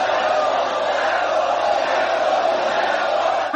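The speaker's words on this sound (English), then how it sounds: "The crowd is chanting Rambo." A dense film crowd chanting and roaring steadily in Rambo III, a continuous wall of massed voices with no gaps from start to finish.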